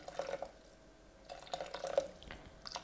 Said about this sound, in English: So I'm going to add 400 ml of boiling water.